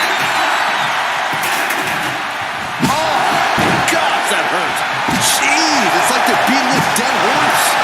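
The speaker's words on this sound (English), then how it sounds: "What a splash from the middle rope." A heavy body slam from a wrestler's middle-rope splash in the WWE 2K25 video game hits with a sharp impact over constant arena crowd noise, with a commentator talking throughout.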